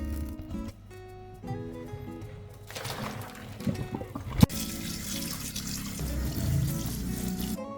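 Water runs and splashes into a metal pot of boiled pork leg for stew, starting and stopping, with clanks of the vessel and a brief sharp knock midway.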